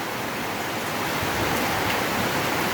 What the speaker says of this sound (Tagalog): Pawala siya kasi biglang lumakas yung ulan.